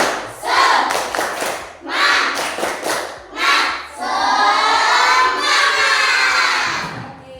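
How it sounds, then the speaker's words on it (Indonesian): Schoolchildren in an Indonesian classroom do a rhythmic spirit clap, loud bursts of patterned clapping mixed with shouted chanting and crowd noise, close and lively throughout. "Tepuk semangat!"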